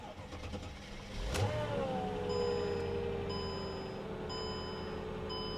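An old car with 127,000 miles starting up: a brief crank catches, then a steady running hum with a falling whine and electronic dash chimes, close by and with no voices.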